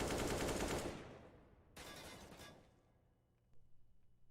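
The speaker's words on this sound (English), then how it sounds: "As Berry, he's not running out of bullets, but not running out of HP as he hits another headshot." Gunfire in Counter-Strike on the Mirage map during a tournament match: a dense burst of rapid shots at first, a second loud volley partway through, then quieter clatter near the end, with no talk.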